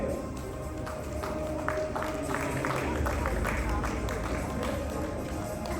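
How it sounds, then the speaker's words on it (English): Steady applause for the panelists at an architecture and green building design meet, with dense clapping holding over a constant roomy background hum, mixed with crowd murmur and voices. "A big round of applause, please."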